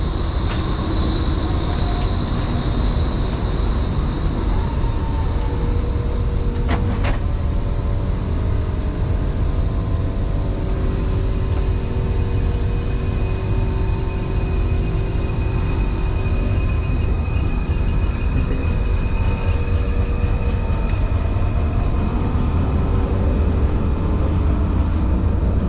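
Interior of an LRT light rail train running through Kuala Lumpur, with a loud steady rumble of wheels and motor that holds throughout, plus faint squeals and a brief rattle partway through.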